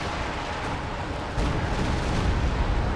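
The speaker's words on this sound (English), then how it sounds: "They're just gonna launch artillery. I'm launching some of my own around this area." Artillery barrage in the World War II strategy game Company of Heroes 2, a dense continuous rumble of distant booms and blasts that swells partway through, with no voices over it.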